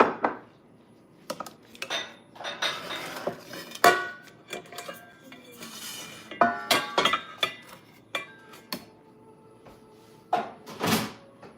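Metal pans clank and scrape as they are picked up and set down, with irregular clinks and knocks nearby, no talking.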